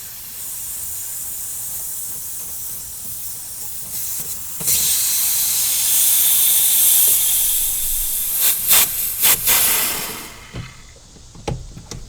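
Residual air escapes from a loosened AC line on a Chevy Tahoe, a close, continuous hiss lasting several seconds, then fading into a few short sharp bursts and clicks as the fitting is unscrewed and the pipe comes free.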